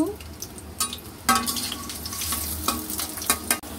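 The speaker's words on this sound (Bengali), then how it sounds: "এখন দিচ্ছি তেল আর এখন দিয়েছি পেঁয়াজ। এগুলোকে এখন ভেজে নিব।" Oil crackles and sizzles steadily as onions fry, with repeated scraping stirs and clinks of a utensil against the pan, close up.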